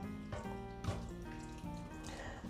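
Hot boiling water pouring from a kettle into a container coated with seasoning, a close, steady splashing stream with gurgling shifts as it fills, alone without talk.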